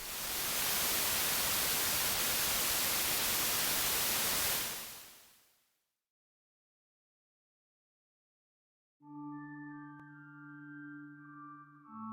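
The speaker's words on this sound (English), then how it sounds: "each TV was tuned to nothing but static" Loud, steady hiss of television static from a set tuned to nothing, filling the first few seconds alone before fading out into silence, followed by a sustained tonal musical drone.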